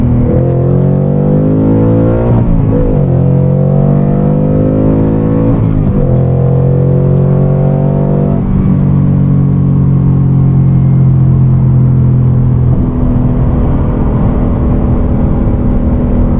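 A manual car's engine heard from inside while driving and shifting gears: a loud steady drone whose pitch climbs, drops sharply at each shift and climbs again, repeating several times.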